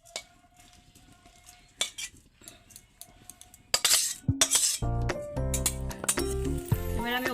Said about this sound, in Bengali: এবার আমি এই দেখো থালাতে ঢেলে নিচ্ছি।